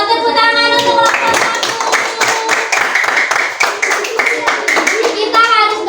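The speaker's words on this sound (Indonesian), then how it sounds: "tepuk tangan untuk kelompok" Children clapping together in a classroom for a student group, a loud close burst of rhythmic hand claps lasting several seconds, with young voices speaking at the start and end.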